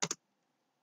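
A computer keyboard gives two quick keystrokes, then a short silence and a third keypress, all close and clear.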